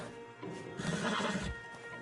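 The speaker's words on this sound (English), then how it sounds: "Marston, you're gonna tether him up to Javier's horse." A horse whinnies in Red Dead Redemption 2, a single drawn-out neigh rising and falling near the listener, with faint hoof clatter and no speech.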